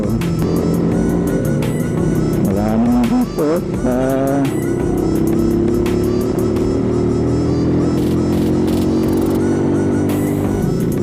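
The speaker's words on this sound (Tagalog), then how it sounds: "nagbibuild ang traffic" Road traffic in the Philippines on the way to Batangas, with cars and motorcycles and a run of loud car horn honks midway, all under steady engine noise while someone briefly talks.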